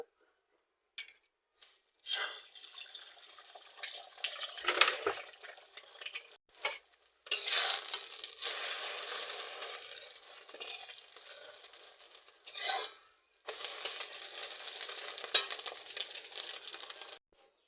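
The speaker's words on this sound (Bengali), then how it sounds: "কড়াইতে তেল গরম হয়ে গেছে এবার আমি ডিম একটা একটা করে সবকটা ডিম ভেজে নেব" Eggs fry one by one in hot oil in a kadai; sizzling oil crackles in bursts with intermittent pauses, mixed with occasional metal clinks and stirring of the pan, close and fairly quiet.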